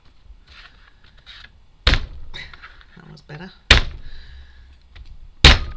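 A garlic bulb is banged hard on a kitchen counter to loosen the cloves, three loud sharp thuds spaced a couple of seconds apart, with a person talking between the knocks.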